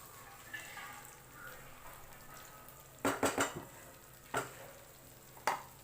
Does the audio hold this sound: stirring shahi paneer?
yes